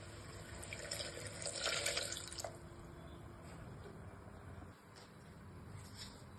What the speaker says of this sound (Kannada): ನೋಡಿ ಬೇಳೆ ನೀರು ಸೇರಿಸ್ಕೊಳ್ಳೋಣ